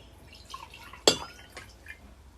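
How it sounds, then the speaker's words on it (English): Water is poured into a glass indoors, heard as a brief splash followed by faint trickling and drips in a quiet room. "Pour some normal water."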